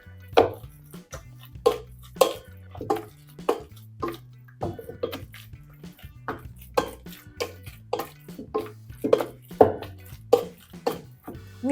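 Potato and wheat flour dough being mixed and kneaded by hand, giving a steady series of soft, wet slapping and squishing thuds, close and moderately loud, with no talking.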